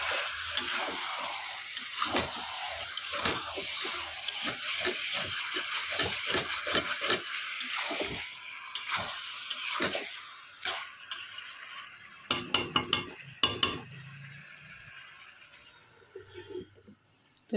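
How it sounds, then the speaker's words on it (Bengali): A pan of food stirred while it fries, spatula scrapes repeating in an uneven rhythm over a steady close sizzle, with a burst of sharper clatter near the end as the hiss fades. "একটু নাড়াচাড়া করে দিয়ে যাই, নাহলে নিচ দিকে লেগে যাবে।"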